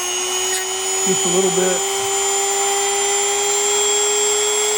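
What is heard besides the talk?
Dremel rotary tool with abrasive disc wheel grinding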